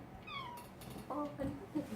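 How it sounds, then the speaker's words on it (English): A male cat meows in a few drawn-out, rising-then-falling cries over about two seconds, fairly close, with human voices murmuring around it. "This cat is cute though, and he Frisky."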